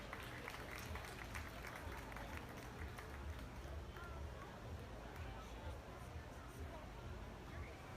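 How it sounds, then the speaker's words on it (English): Sustained clapping from a crowd at a dairy cattle showcase, dense and even throughout, with some background murmur of voices mixed in. "Let's give the exhibitors a big round of applause."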